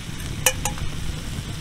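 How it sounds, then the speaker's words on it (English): Curry paste being stirred into chicken frying in a pan at a hot tent camp: a quiet sizzle under a couple of sharp scrapes and taps of a utensil against the pan, close up, no talking. "So I just need to stir that for about 3 minutes."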